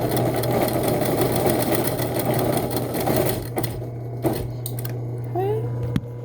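A sewing machine stitches and backstitches a fabric face mask, a steady fast mechanical whirr close by that stops briefly, then short bursts and a small click as the fabric is lifted.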